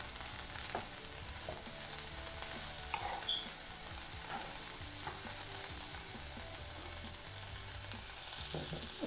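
Food sizzles and fries in a pan on a home stove while it is stirred and mixed, a steady crackling hiss with occasional scraping stir sounds, close and fairly quiet, with no voices.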